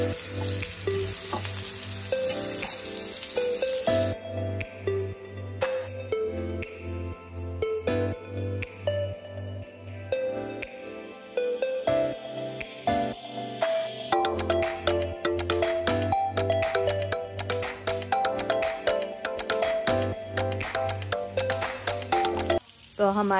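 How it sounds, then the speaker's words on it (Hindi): Vegetables sauté for pink fried rice in a pan. A steady sizzle runs under loud background music, with occasional stirring clinks scattered throughout. "हमारी सारी वेजीज हम डाल देंगे इसमें और इसको अच्छे से सॉटे कर लेंगे।"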